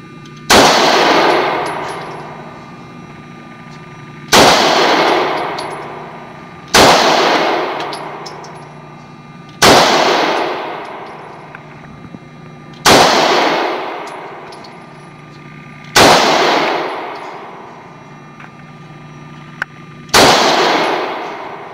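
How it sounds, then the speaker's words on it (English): Seven loud gunshots at an outdoor shooting range ring off a steel target, each a sharp crack followed by a long metallic clang that fades, spaced a few seconds apart with quiet gaps between. "So now you are ready to fire."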